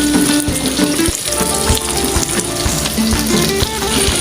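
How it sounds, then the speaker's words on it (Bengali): Surma fish frying in a pan with leftover spice paste and two green chillies, a steady close sizzle and crackle running throughout with faint kitchen clatter. "আরও 5 থেকে 7 মিনিট আমি মাছটা সুন্দর করে ভেজে নেব"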